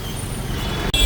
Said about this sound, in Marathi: अशीच ट्रॅफिक आहे